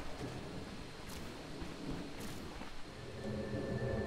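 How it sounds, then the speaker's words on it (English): Disruptor's thunder spell crackles in Dota 2 as a steady roar of rain-like static with two sharp high cracks, a continuous stormy wash with no voices. "Rolling thunder!"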